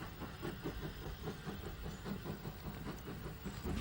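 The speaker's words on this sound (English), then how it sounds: "A train for Hawkhurst calls at the station." A steam-era train on the Hawkhurst branch draws into Goudhurst station. Its rhythmic clickety-clack and chuffing beat steadily over a faint, hissy background, fairly distant and low in level.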